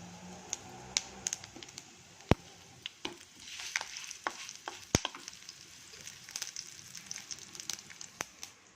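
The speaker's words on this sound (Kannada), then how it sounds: "ಒಣಮೆಣಸಿನ್ಕಾಯಿ ಮತ್ತು ಕರಿಬೇವು ಹಾಕ್ತಾಯಿದ್ದೀನಿ. ಇದೆಲ್ಲ ಸ್ವಲ್ಪ ಚಟಪಟ ಅಂತ ಸಿಡಿಲಿ." Dry red chillies and curry leaves spluttering in hot tempering oil for a Kannada saaru: sharp, irregular crackles and pops burst close up over a faint, steady sizzle, with no voices.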